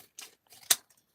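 A few quick snips of scissors cutting packing material while knives are wrapped for return, close and clear, with short pauses between cuts.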